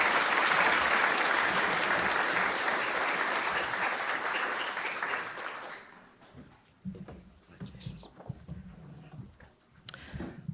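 Audience applause at a medical school honors convocation fills an indoor hall for about six seconds, then fades out, followed by scattered faint room sounds and a speaker's voice.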